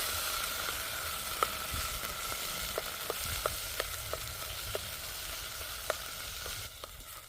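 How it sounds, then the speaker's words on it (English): Chunks of unseasoned beef sear and simmer in a pot over a winter campfire, giving a steady close sizzle with faint scattered pops and crackles throughout. "while that beef's slowly cooking, getting a little sear on it"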